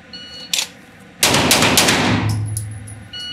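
A Sig Sauer handgun fired during a timed shooting drill: a faint click, then one sharp, loud, close shot that rings out and decays over a couple of seconds, with no voices.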